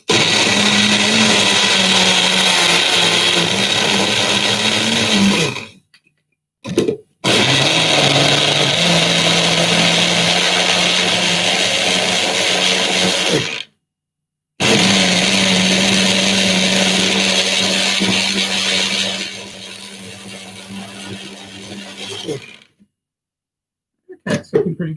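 A blender runs loud and close while blending banana and yogurt, whirring in three long bursts separated by short pauses, its pitch shifting slightly as the load changes, with no talking over it.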